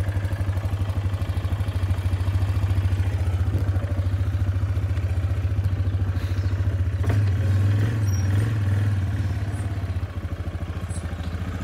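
A Yamaha Grizzly 450 ATV, repaired after crash damage, idles close by in a steady, even chug that continues for about twelve seconds, with faint clatter and no talk.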